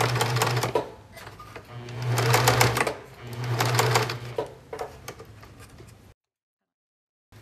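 Sewing machine stitching back and forth on a fabric bowl cover, three close runs of fast, steady mechanical whirring and ticking broken by short pauses, followed by lighter clicks and then silence.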